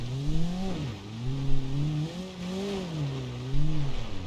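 A car engine in BeamNG.Drive revs up and down in steady rising and falling sweeps, close and loud, held on the throttle to keep it from stalling, with light rumbling and thumps underneath.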